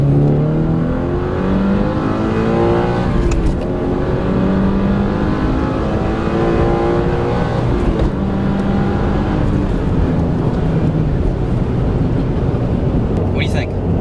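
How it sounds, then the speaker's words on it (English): A 2022 Subaru BRZ with active sound control disabled, accelerating hard from about 35 mph in second gear, engine note climbing steadily with rising harmonics under occasional voices inside the cabin. "We're gonna do a second gear pull."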